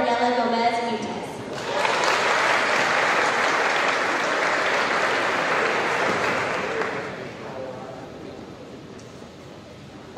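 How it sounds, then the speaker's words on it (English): Sustained applause fills a high school awards ceremony hall, rising loudly after a brief spoken introduction and holding steady for several seconds before tapering off as voices return. "let's just have one more round of applause for all of our departments"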